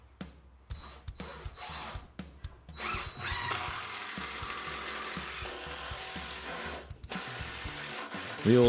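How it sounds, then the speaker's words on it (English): An impact driver driving screws into pilot holes whirs and rattles in bursts, then runs in a longer sustained stretch, fairly close with a hard mechanical buzz. "We all love the sound of a cranked impact driver."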